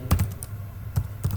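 Keys clicking on a computer keyboard while an SQL query is typed, a few close, crisp taps at an uneven pace with a low hum underneath and no voice.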